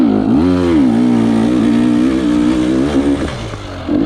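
Enduro dirt bike engine revving hard and close during a pro race lap, a steady high buzzing drone that rises and dips with throttle, loud and continuous with no talk.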